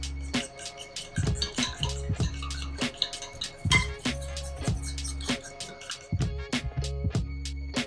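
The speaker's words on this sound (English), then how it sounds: "then I'll proceed to mix my egg" Egg being whisked with spices for yam-and-egg fritters: quick, bright clinks of a utensil against a bowl in an uneven rhythm, close and moderately loud, with a low background hum and no talking.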